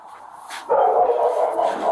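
A dog gives a short, close whining bark that swells into a sustained howl-like call lasting over a second, with no talk over it.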